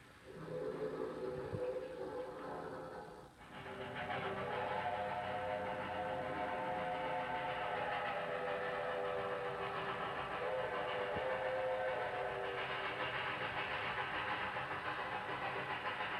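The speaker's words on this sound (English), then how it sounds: "A steam locomotive taking on water." A steam locomotive takes on water at a railroad water tank on the Cumbres and Toltec line, giving a continuous rushing hiss and low steady rumble, fairly distant, with no voices.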